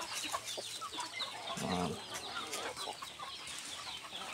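Rhode Island and mixed-breed chickens cluck around a farmyard, with scattered short clucks throughout and a louder burst of nearby calls partway through, against steady outdoor background noise.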